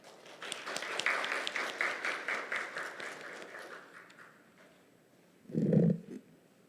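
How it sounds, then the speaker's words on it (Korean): An audience at a legal symposium applauds to welcome a speaker, dense clapping rising quickly, then gradually thinning and fading over several seconds, followed by a brief low thump near the microphone. "큰 박수로 환영해 주시기 바랍니다"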